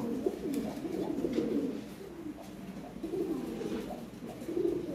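Lahore Sherazi pigeons at a loft give repeated low, throaty coos in overlapping rounds, moderately close, with soft background noise and no talking.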